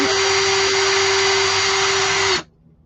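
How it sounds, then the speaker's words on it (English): Small power drill boring a quarter-inch hole straight through a tiny piece of wood for a miniature door, whining loud and steady for over two seconds with a constant high tone, then cutting off abruptly. "Drill it straight."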